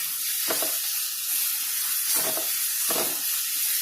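Onions frying in hot oil for Jammu-style rajma: a constant loud sizzle, with a few soft scrapes of stirring rising out of it.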